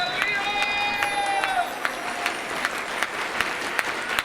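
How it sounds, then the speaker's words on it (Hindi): A church congregation claps loudly during a blessing prayer, a dense sustained wave of applause with some quick sharp claps standing out, while a voice speaks over it. "उसके लिए जोर से ताली बजाना शुरू आमीन कीजिए।"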